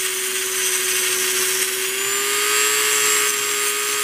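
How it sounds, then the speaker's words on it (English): A Dremel rotary tool runs steadily and loudly, grinding metal while shaping a mini hatchet, with a sustained high whine and a constant tonal hum throughout and no pauses. "Little pieces of metal will go flying off your Dremel."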